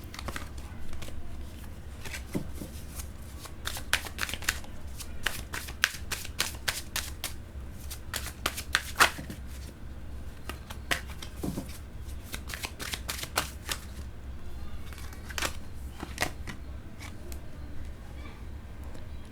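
Tarot cards being shuffled by hand, a long run of crisp riffling and flicking bursts in uneven rhythm, close and fairly quiet, with soft background hum.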